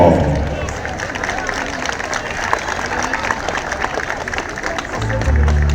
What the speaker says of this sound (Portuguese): É o GDF Os Farroupilhas para o aplauso do